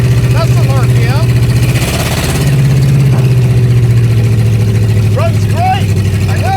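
A Suzuki Samurai fitted with a 440 big block V8 runs in a steady, loud low rumble throughout, with excited voices and whooping over the engine.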